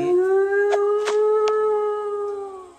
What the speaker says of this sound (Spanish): Ese aullido es cuando ya va a tocar la campana.